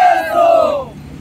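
A crowd of Shiv Sena supporters in Ratnagiri, celebrating a party name and symbol decision, raises a loud, unified cheering shout that holds for about a second and then fades, heard up close.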